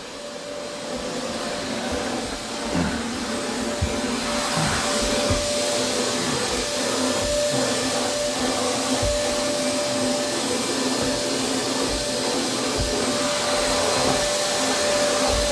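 A stair vacuum cleaner runs continuously on carpeted stair risers, its steady whining motor drone holding for the whole stretch with occasional bumps and brush knocks against the steps.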